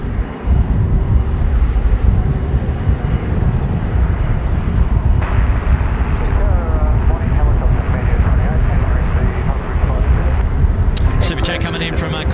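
An airliner lands on runway 25 at Sydney Airport in strong, gusty wind. It makes a loud, continuous roar and rumble, heavily buffeted by wind on the microphone, while voices talk over it throughout.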